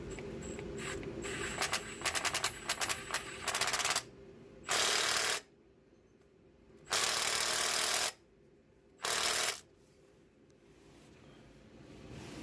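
Power tool drives engine mount bolts on a 2006 Ford Escape, a quick rattling hammer of impacts followed by three separate loud, steady bursts with pauses between them, close by in a quiet garage.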